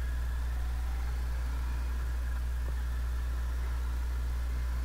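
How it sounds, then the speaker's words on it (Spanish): A Moto 650 motorcycle engine runs steadily at close range, a constant low hum with no voices, on a ride along a ring road near Xilotzingo. "Esta potencia que me entrega la moto en un arrancón, la verdad me sorprende, ¿eh? Digo, es una 650."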